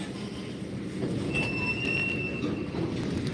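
A Norfolk Southern freight train rolls past with a steady low rumble of rail cars, and thin metallic wheel squeals rise partway through, fairly close, with no voices.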